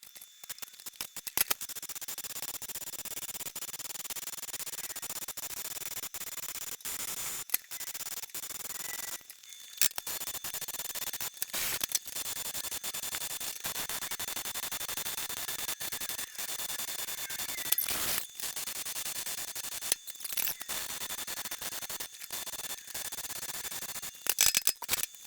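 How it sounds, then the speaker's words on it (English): A part is welded onto a bare truck bed with a steady, hissing crackle that runs on for long stretches, broken by brief pauses between beads. "Let me weld it up fully"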